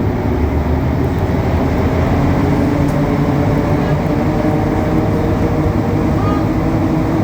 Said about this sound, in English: if it seems a bit louder, the motor, that's because there's actually motors in the middle cars